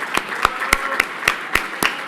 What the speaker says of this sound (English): let's a round of applause for Mike